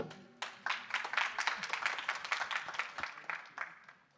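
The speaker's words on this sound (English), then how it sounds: "please give them a warm welcome and a big round of applause" Audience applause welcoming a presenting team at a stablecoin hackathon demo day, a moderate crowd of distinct hand claps forming a brisk, steady patter that continues for several seconds before trailing off.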